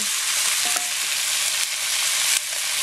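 Chicken fries in cooking oil with a dense, steady sizzle, broken by a few faint stirring scrapes, with no voices.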